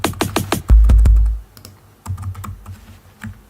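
Rapid clicks of keys on a computer keyboard used for musical typing, a quick burst of strokes, a short low hum, then sparser scattered taps, close and clear with no talking.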